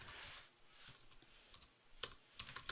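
Someone types on a computer keyboard during a programming session: a quiet run of light key clicks, soft at first and then a quicker cluster of taps near the end, with no voice.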